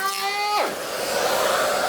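A battery powered hand planer shaving wood: a high motor whine drops in pitch and turns into a loud, rough, steady cutting whir.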